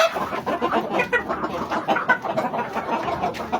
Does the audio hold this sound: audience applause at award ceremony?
no